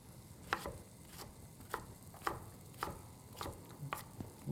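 A knife chops a yellow onion on a cutting board in a series of about eight evenly spaced, fairly soft thuds, close up and alone.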